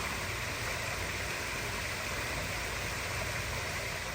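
Steady broadband rush of a waterfall at a resort garden in La Quinta, Palm Springs area, continuous and fairly loud with no voices over it.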